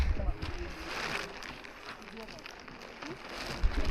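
Rain falls steadily on the way to Top Station in misty Munnar, a soft continuous hiss of drops with faint low rumbles, heard alone at moderate distance.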